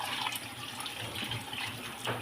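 Water poured onto fried rice and broad beans in a pot for cooking, a steady close splashing pour lasting a couple of seconds.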